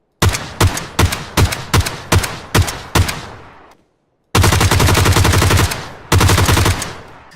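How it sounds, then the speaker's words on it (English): G36C rifle fire from PUBG Mobile: eight loud, evenly spaced single shots with ringing tails, a brief silence, then two long dense bursts of rapid automatic fire, no voices. "So here you have the sound effects with the weapon."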